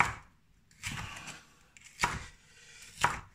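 A knife cuts vegetables lengthwise on a cutting board, with four distinct chops spaced about a second apart and quiet between them, close and clear.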